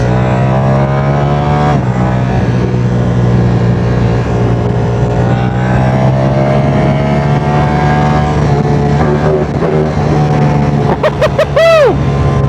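A Ducati Streetfighter V4 motorcycle cruising on the Autobahn gives a loud, steady engine drone that holds its pitch, then revs sharply upward near the end.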